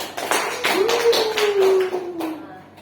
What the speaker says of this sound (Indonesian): kita kasih aplaus untuk Ega dulu